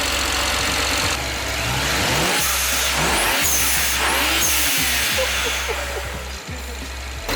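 BMW 335i engine revving after a blow-off valve install, loud close-up blips rising and falling over a rough idle, with faint whooshing releases between revs.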